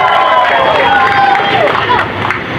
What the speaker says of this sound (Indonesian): Mari kita beri aplaus ke Manokwari